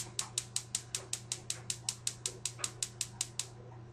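A kitchen stove is started up and set to high heat: quick, evenly spaced clicks repeat about five times a second over a low steady hum, close by and fairly quiet.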